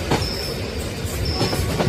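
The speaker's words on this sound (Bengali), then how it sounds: "ট্রেনের হুইসেলের আওয়াজ এলো। একটা পুরোনো ধাঁচের ট্রেন ধীরে ধীরে স্টেশনে এসে থামল।" An old-style train rolls into a station with loud, close rumbling and clattering wheels, a thin whistle-like squeal sounding twice above the steady roar.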